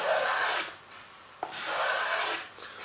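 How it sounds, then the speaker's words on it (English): Balsa wood sanded by hand for the flaps of an F-18 model: two long, steady rasping strokes with a short tap between them, close up, with no talking. "I don't like the dust from sanding balsa wood."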